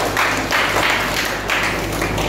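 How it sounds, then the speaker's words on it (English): A teen audience at a Sunday church career-talk service gives a round of applause, the clapping loud and continuous with slight swells and dips in intensity. "give yourself another round of applause."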